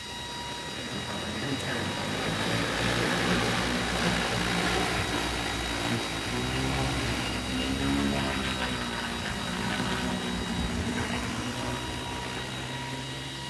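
An EAVision J150 agricultural spraying drone flies over a big field, a steady loud whirring propeller drone that holds for the whole stretch, with some low rumble and slight rise and fall in pitch.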